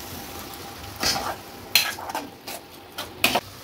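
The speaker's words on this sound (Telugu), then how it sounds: "దీంట్లో పచ్చి వాసన పోయేంత వరకు ఈ విధంగా హై ఫ్లేమ్ మీద దగ్గరుండి కలుపుకోండి" Tomato puree stirred in a pan over a high flame, with a soft steady sizzle broken by several scraping strokes of a spoon against the pan, close and moderately loud, no voices.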